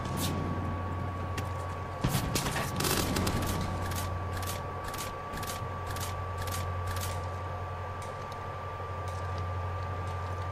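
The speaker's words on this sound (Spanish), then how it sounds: "Esos disparos" Gunfire in the video game Far Cry 5: a steady run of sharp shots crackles over a constant background hum, with a denser burst early on followed by evenly spaced reports at moderate distance, no talking.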